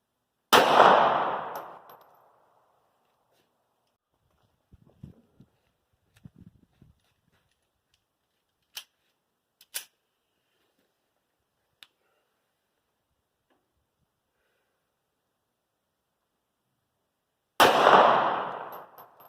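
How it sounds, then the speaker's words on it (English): Two sharp, loud shots from a Ruger LCP2 .380 pistol firing Gold Dot hollow points into ballistic gel, one at the start and one near the end, separated by quiet stretches with faint clicks and handling sounds. "I took 2 shots with the gold dot through the LCP2"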